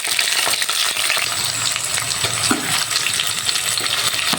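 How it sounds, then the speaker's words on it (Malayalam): Garlic, green chilli and curry leaves sizzle and crackle in hot oil in a pan, with steady close frying hiss broken by scattered pops and stirring scrapes. "എണ്ണ ചൂടായി വന്നിട്ടുണ്ട്. വെളുത്തുള്ളി ഇട്ട് കൊടുക്കുക, പച്ചമുളക്,"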